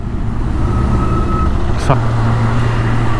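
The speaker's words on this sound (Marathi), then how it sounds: "बघू शकता चांगला ट्रॅफिक आहे।" Busy road traffic at Kalamboli junction near Panvel, a steady broadband rumble of cars and trucks with a brief passing swoosh midway and a low engine drone, loud and continuous throughout.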